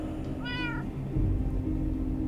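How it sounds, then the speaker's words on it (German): A cat in the Minecraft video game gives a single short meow over steady background game noise, with no talk. "Schieres Katzenviech."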